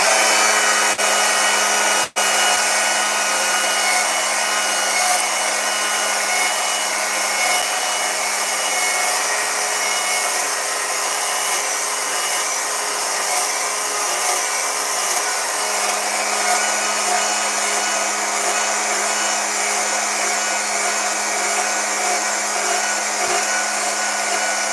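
A chainsaw carves wood for a large bear sculpture, its engine holding a loud, steady, close buzz for the whole stretch with no talking.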